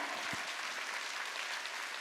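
A church congregation claps hands during a Sunday worship service, producing a dense, continuous patter of many hands that stays even and fairly distant, with a couple of low thumps near the start.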